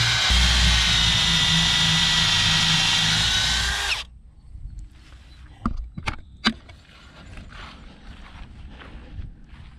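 A power drill drives 4-inch screws to anchor a wooden truss onto a wall while building a chicken coop, whining loudly and steadily for about four seconds before stopping, followed by a few sharp knocks and light handling noises.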